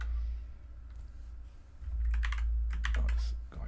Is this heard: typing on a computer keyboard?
yes